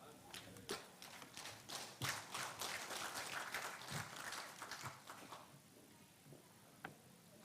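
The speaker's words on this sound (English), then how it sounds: "another round of applause for our Honorable Minister of State for Trade" An audience claps at a Uganda–Vietnam business summit. Dense applause builds quickly, holds for several seconds, then thins to scattered claps. It sounds moderately distant in a large hall.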